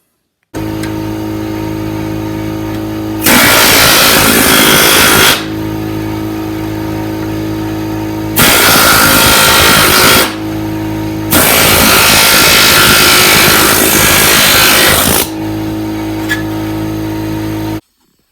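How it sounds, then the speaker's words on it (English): A power chisel cuts out the floor pan steel of a classic Volkswagen Beetle in three loud rattling bursts, the last one longest, over a steady humming drone that fills the pauses. "I have a power chisel. I'll give that a shot initially."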